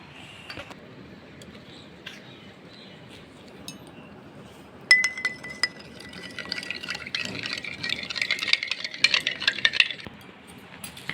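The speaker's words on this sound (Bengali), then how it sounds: "প্রথমে জলে গুলে তখন আপনাদেরকে খেয়ে দেখাচ্ছি।" Homemade lemon Glucon-D powder is stirred into water in a glass, starting with a few faint clicks, then a spoon clinks rapidly and repeatedly against the glass for several seconds, close and clear.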